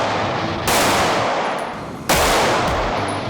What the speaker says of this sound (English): Alongside Anthony, triple amputee Andrew Buttrell is shooting his first backup gun national.